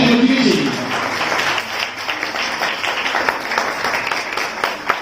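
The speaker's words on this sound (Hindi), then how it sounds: "जोरदार तालियों से स्वागत करते हैं हम असली का कलाकार।" An audience applauds to welcome film artist Satish Jain at a Chhattisgarhi film launch ceremony: a dense, steady wash of clapping that holds for the whole stretch, with a voice speaking briefly at the start.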